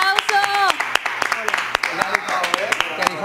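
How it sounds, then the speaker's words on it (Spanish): Scattered handclaps from a few students in an academy classroom, mixed with lively overlapping speech and laughter-like voices; the claps come in uneven bursts under the talk. "¡Un aplauso!"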